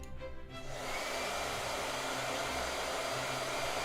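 A handheld blow dryer switches on after a brief quiet start, then runs as a loud, steady whooshing whine close to the microphone for several seconds.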